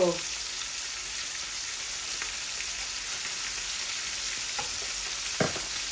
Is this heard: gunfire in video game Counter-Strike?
no